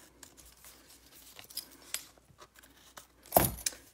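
Scissors trim a length of Merlot satin ribbon with a coppery shimmer side, soft faint snips building to one crisp, louder cut near the end, with no voices.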